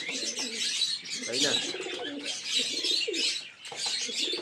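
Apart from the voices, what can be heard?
pigeons cooing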